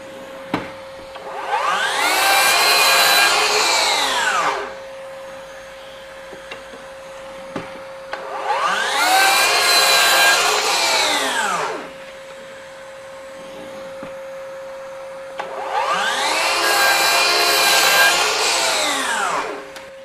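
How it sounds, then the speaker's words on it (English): A FLEX 24V brushless 12-inch dual bevel miter saw makes three separate cuts through wood, each a loud whining buzz lasting a few seconds, while a dust extractor hums steadily underneath throughout. "Dust extractor back on."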